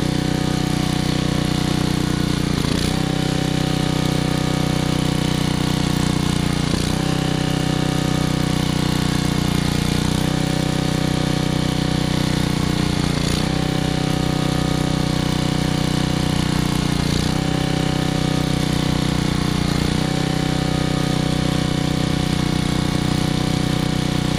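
A Generac engine fitted with a new carburetor, choke about three-quarters open, idles steadily and loudly, its note dipping and surging at regular intervals of a few seconds.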